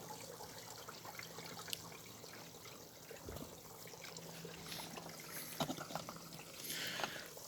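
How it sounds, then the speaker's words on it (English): Water trickles and drains down through the stacked tiers of a Greenstalk vertical container planter, a steady soft dribbling with occasional louder drips and splashes, fairly close and continuous throughout. "it's going to drain all the way through every level, and then it'll start coming out at bottom"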